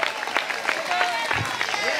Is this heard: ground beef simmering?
no